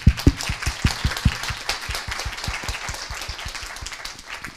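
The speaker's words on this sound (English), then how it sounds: "So maybe one more hand of applause for them." Applause for panelists at a talk on children from violent experiences, with a few sharp individual claps up front and then steady, moderately loud clapping from the room throughout.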